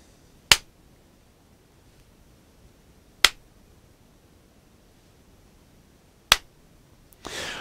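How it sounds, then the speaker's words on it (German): Three sharp, isolated hand claps for an audio sync test, spaced a few seconds apart over a faint hiss, followed by a short rustle at the end. "So, jetzt machen wir nochmal den Klatschtest."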